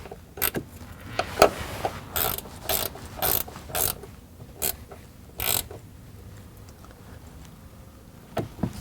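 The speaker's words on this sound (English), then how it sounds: "tighten it down." Ratchet tightening a grounding wire nut during a SiriusXM vehicle tuner installation: short clicking bursts of the pawl, sometimes in quick pairs, some longer runs, close and moderately loud with no talking.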